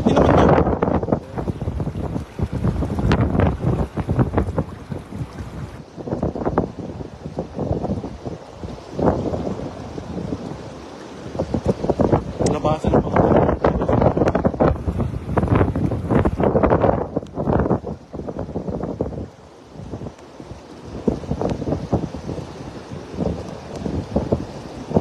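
Heavy wind batters the microphone in rough, uneven gusts for a long stretch while fishing, with a low rumbling undertone like open water or a boat.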